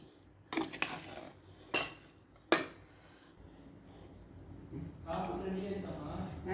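A spoon scrapes and clinks against a pan while mango rice is stirred, with a few sharp metallic knocks early on, then a steadier rustling scrape, close and moderately loud.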